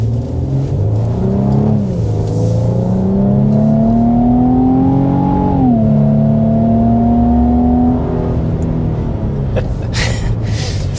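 2026 Infiniti QX80 full-size SUV accelerating hard in sport mode, engine note rising through gears with a throaty, steady roar, loud and close with no talking.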